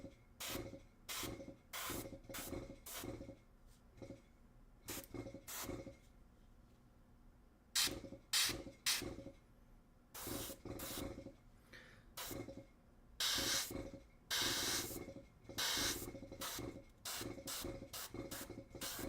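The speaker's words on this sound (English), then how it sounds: "do a little bit more now that the airbrush seems to be cooperating a little bit" An airbrush sprays paint in short repeated bursts of close hiss, some brief and some held for a second or more, with quiet gaps between them and no talk.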